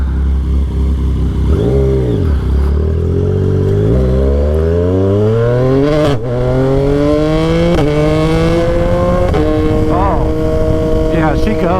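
A Yamaha XSR 900 motorcycle engine revs and accelerates hard through several gears, each pull rising in pitch before a shift drops it back, loud and close with steady wind rush underneath.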